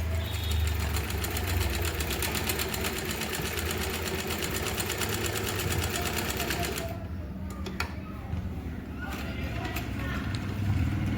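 An Usha sewing machine stitches with a fast, steady mechanical clatter for about seven seconds, then stops, leaving quieter handling noises and a few clicks.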